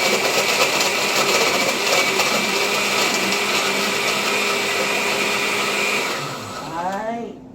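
A blender chops and grinds ice with a loud, continuous whirring roar. The motor winds down near the end with a falling whine.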